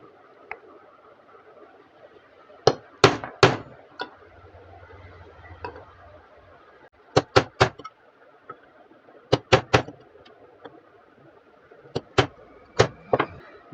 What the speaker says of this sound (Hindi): जैसा ही आप ठोकोगे तो ये चारों रिपीट ओपन हो जाएगी